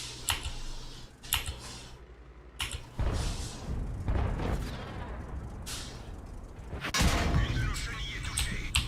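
Shots and impacts in a tank video game come through as a few sharp, loud bursts against a steady engine-like rumble, with a sudden blast near the seventh second, and people talking over the action.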